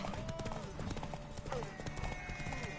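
Steady clip-clop of horse hooves with an occasional whinny in The Witcher 3: Wild Hunt, backed by game music and a man calling out over it.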